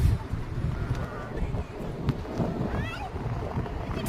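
Sea waves and wind on Mandarmani beach, a steady rumbling wash with gusty wind buffeting the microphone and people talking faintly.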